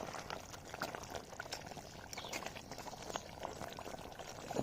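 Mutton simmering in a pot with mango leaves for a Telugu-style curry, a steady bubbling boil with soft liquid churn and scattered pops, continuous and fairly close, with no voices.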